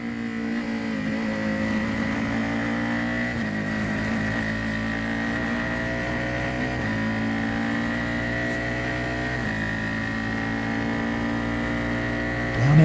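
A Formula 4 race car heard from onboard at COTA drones loudly and continuously, its engine note holding high and shifting pitch through gear changes and corners.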